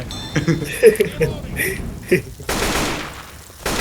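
Bursts of rapid gunfire in the video game Left 4 Dead 2 crackle loudly behind excited talking, ending in a sustained rattle of automatic fire.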